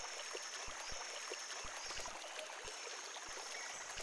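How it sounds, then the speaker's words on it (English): A river flowing beside a rainforest path, a steady broadband wash of running water under a dense hiss of insects, with occasional soft low thumps breaking through, moderately faint and continuous throughout. "The path goes beside a river."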